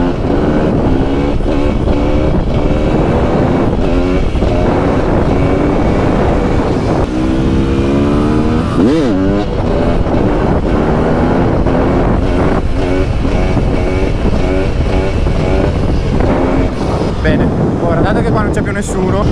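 A Beta 300 two-stroke motorcycle engine revving hard through a wheelie on a road, loud and continuous with rising and falling pitch, heavy wind buffeting the microphone and a voice talking over it.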